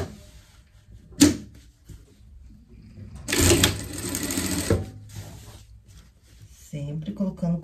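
A sewing machine stitches a seam across a Christmas pet shirt, starting and stopping in short close runs with a louder stretch in the middle, while someone talks between and over the stitching.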